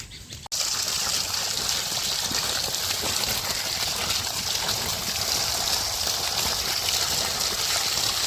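Water runs steadily from a tap or stream while freshly gathered wild forest mushrooms are washed, a continuous close splashing rush starting abruptly after a brief moment of quieter sound.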